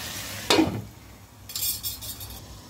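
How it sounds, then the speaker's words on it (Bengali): Chicken pieces browning in a pan over raised heat, stirred with a utensil: a brief scrape at first, then a steadier sizzle with light clinks, fairly faint and close, with no talking. "চুলার আঁচটা একটু বাড়াই দিই, একটু হালকা ব্রাউন করে ভেজে নিব"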